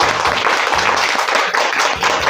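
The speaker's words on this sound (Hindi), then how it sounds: "जोरदार तालियां हो जाएं।" A studio audience on a Hindi quiz game show bursts into loud, sustained clapping, a dense, close crowd applause running for a couple of seconds.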